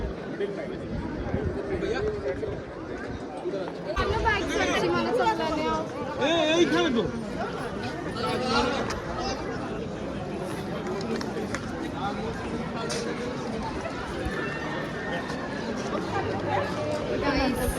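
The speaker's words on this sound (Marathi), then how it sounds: "जाम क्राऊड आहे इकडं." A dense crowd of tourists chatters at the Taj Mahal in Agra, a continuous murmur of many voices and footsteps, with nearby voices rising above the babble now and then.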